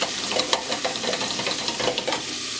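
Garlic sizzles as it goes into a pot of turkey fat for tortilla soup, a close, dense crackling hiss with small popping spurts throughout.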